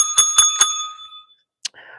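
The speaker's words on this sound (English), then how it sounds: "Gotta get my bell." A bicycle-style bell rings three quick, bright dings close by and loud, then fades, followed by a short click and faint rustling.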